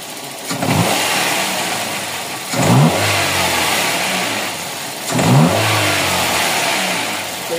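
A Toyota 4A-FE car engine idling steadily nearby with a fault in its idle-up system, three short bursts of revving spaced a couple of seconds apart over a continuous mechanical hum.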